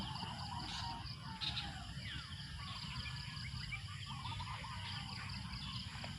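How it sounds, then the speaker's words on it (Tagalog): Faint birds chirp and call at a distance in the early morning on a farm, over a soft, steady hum of insects in a quiet outdoor setting. "Maririnig mo yung boses ng mga oan, mga ibon, kumakanta"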